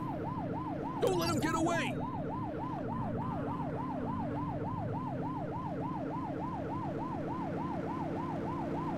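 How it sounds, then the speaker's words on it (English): A police car siren in the video game The Precinct wails in a steady, rapid up-and-down cycle throughout, loud and close, with a brief shouted voice line near the start. "Remember to turn your siren on."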